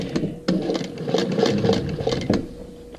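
Sewing machine running top stitching around a vinyl wrist strap for a purse, with a steady mechanical patter broken by short pauses and restarts, close and moderately loud.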